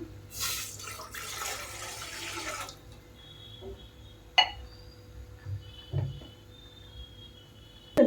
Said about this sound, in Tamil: ஒரு கப்பு தண்ணி ஊற்றிக்கிறோம்